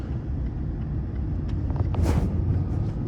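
A car drives along with a steady low engine and road rumble filling the cabin, a faint swish rising briefly near the end, no talking.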